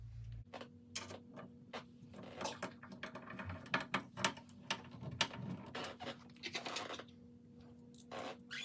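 Metal screws driven into a TV wall mount, heard as a run of close, sharp ticks and clicks in short bursts, with no voices.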